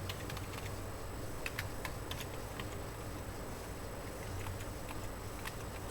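A MySQL query is typed on a computer keyboard, soft irregular key clicks over a steady background hum, fairly quiet and with no talking.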